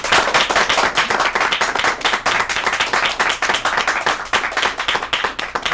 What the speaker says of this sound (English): let's give a final round of applause to our contestants